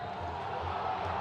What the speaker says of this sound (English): The crowd not happy with that one.